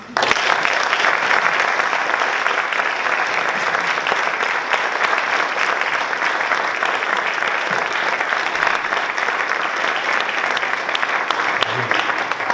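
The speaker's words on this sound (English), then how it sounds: "Let's give her another round of applause" An audience at a school talk event claps steadily and loudly for about twelve seconds, a dense, even wash of many hands with no break.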